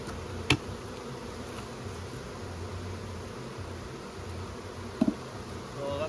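Honey bees buzz continuously around an open hive colony being inspected, a steady, moderate drone with a couple of brief clicks or knocks near the start and end.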